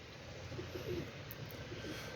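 Pigeons on a rooftop loft coo softly in a few low, short calls, faint against steady background hiss.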